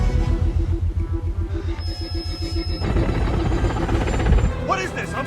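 A helicopter flies overhead, its rotor beating in a steady, rapid low thump throughout, mixed with music and a voice speaking.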